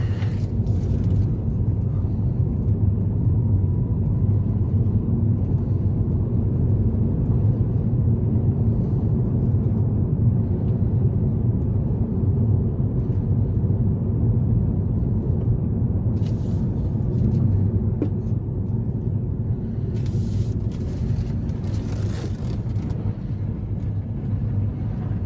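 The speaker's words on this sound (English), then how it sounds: "driving the Kia Stonic" Cabin of a 2022 Kia Stonic GT Line with a 7-speed dual clutch transmission on the move, a steady low road and engine rumble with faint wind hiss, constant and unbroken.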